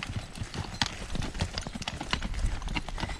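Working farm horses walk on a hard surface, their hooves making a steady, close clip-clop rhythm over a background of ambient noise.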